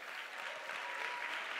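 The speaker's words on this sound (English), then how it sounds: "Everybody clap together and thank God." A church congregation clapping together in unison, a dense, steady wash of applause filling the room for the whole stretch without any voices on top.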